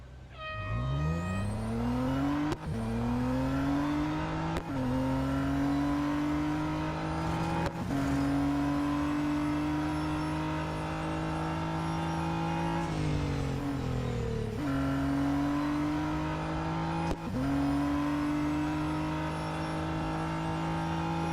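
Radical RXC race car engine in Real Racing 3 during a long mountain autocross event, loud and close, repeatedly revving up through the gears with sharp drops at each shift, continuous and without talk.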